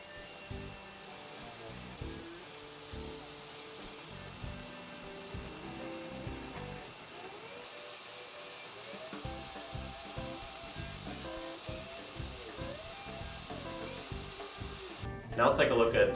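AR Blue Clean 142 electric pressure washer blasting dirt and oil stains off a concrete driveway, a steady hissing broadband spray that holds throughout, then grows louder and harsher in the last second.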